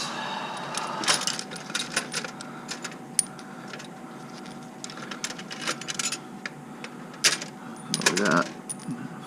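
Metal bolts from a Chevy 4.3 intake reassembly on an S10 Sonoma are picked up and handled, clinking and jingling close by in scattered bursts, with a brief spoken word partway through.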